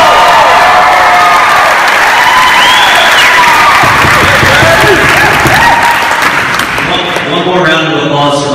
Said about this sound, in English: Can we get a round of applause for Austin?